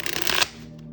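A tarot deck is riffled and shuffled by hand, a quick close patter of card flicks that stops abruptly after about half a second, leaving a faint hum.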